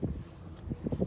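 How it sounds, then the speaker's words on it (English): Strong wind outdoors, a brief burst of rumbling, gusty buffeting right on the microphone with a few louder surges, no voices. "Goodness, that wind is crazy."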